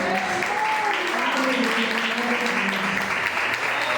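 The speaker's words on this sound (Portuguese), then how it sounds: "Podemos aceitar em uma salva de palmas" A church congregation applauds steadily during a sermon, dense continuous clapping that stays loud throughout, with a voice speaking over it.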